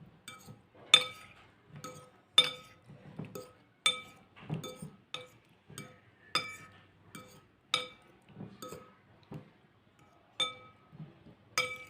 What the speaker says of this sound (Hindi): ये जो आलू हमने फोक करके रखे हैं ये इसमें ऐड कर देते हैं और एहतियात से इसको इसमें मिक्स कर देते हैं।